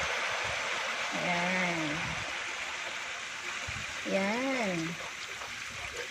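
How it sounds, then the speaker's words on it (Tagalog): Coconut milk pours into a hot pot of cooking chicken with a steady trickling hiss, while a person speaks briefly over it. "So ilalagay na natin yung gata ng niyog."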